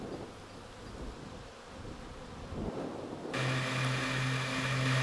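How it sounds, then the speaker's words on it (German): Bees swarm and buzz around hives in a field of alfalfa and rapeseed, a dense steady drone close by that swells louder partway through, with no voices. "Bienen sammeln in dieser Gegend hauptsächlich Pollen von der Luzerne, eine Kleeart und Raps."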